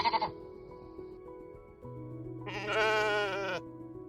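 Sheep on a grassy hill, one clear wavering bleat rising loud and close after a quieter lowing call, with soft rustling before it.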